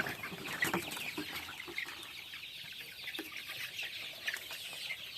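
Young Fayoumi and Tiger breed chickens cluck and peep softly on a farm, a faint, busy chatter of overlapping calls with occasional louder notes and rustling.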